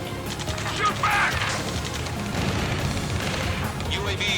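Gunfire in the Ace Combat 7 combat video game, a steady busy spread of scattered shots and bursts running throughout under radio chatter voices.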